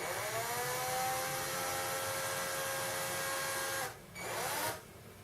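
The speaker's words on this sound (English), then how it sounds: "we put the power drill in low speed, this wants to go on the forward direction" A power drill on low speed spins while regrinding electric shaver blades, a close, steady whirring drone that briefly dips and stops near the end, then restarts for a moment and cuts out.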